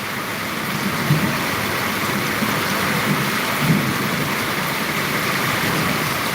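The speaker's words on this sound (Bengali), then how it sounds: "আপনারা যদি এখন বর্তমানে শুনতে পারবেন যে বজ্রপাত হচ্ছে" Heavy rain pours in a constant dense roar during a storm in Bangladesh, with faint low thunder rumbles rolling underneath, no voices.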